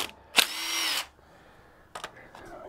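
Power tool driving out bolts from a transmission valve body (9T50 unit), with one loud, close burst of whirring lasting about half a second, followed by a couple of shorter, fainter buzzes.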